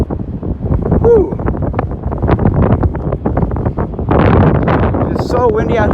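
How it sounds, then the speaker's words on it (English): Strong 40 mph wind buffets the microphone beside rough waters of Lake Erie, a loud continuous roar with gusts swelling near the end, while a person talks over it. "It's so windy out here."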